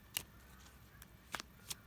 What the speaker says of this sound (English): look, I'm still shuffling and nothing's coming out.